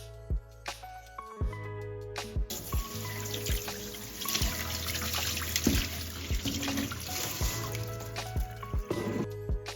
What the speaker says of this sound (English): I want to rinse the rice